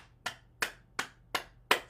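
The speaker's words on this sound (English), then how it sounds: "Now we'll clap our hands." Five firm hand claps at a steady, slow rhythm during an at-home exercise routine, each one sharp and close with a short decay, alone in a quiet room.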